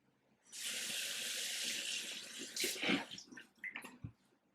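Tap water runs into a bathroom sink for a few seconds as a towel is rinsed under it, followed by wet splashes, wringing and drips, close and fairly quiet.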